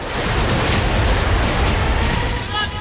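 Continuous heavy rumbling barrage of booming blasts from BM-21 rocket launcher and artillery fire, dense and loud throughout with no pauses.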